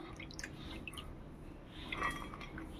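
Soaked chana dal tipped into a mixer grinder jar, heard as soft wet clinks and drips of lentils and water against the jar, faint and close, with low background hiss and no talking.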